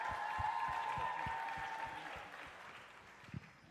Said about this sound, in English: can we get another round of applause for all the amazing dancers today?